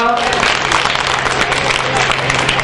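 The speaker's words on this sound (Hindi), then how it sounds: "डॉक्टर साहब की कविता सुनकर ताली बजाती, बहुत अच्छा किया।" Audience members at a Hindi poetry gathering (kavi sammelan) clap after a poem, a brief steady burst of applause with a low hum underneath.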